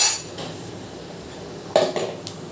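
A metal spatula knocks and scrapes around a pan while black cumin seeds temper in oil, producing a few sharp clinks over a quiet background.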